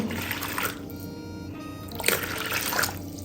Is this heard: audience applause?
no